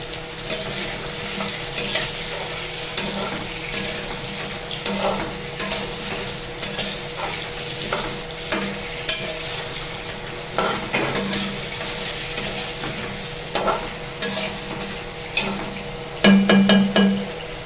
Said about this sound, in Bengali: অল্প করে তেলে আলুগুলো এবার ভাজছি।